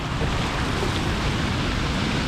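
Water surges forcefully at Kanthale dam in Trincomalee, a dense, steady roaring rush filling the whole clip, loud and close with constant wind-like noise and no pauses.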